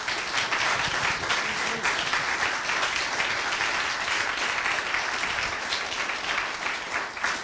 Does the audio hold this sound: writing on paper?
no